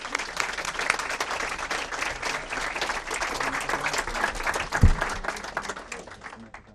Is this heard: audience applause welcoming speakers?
yes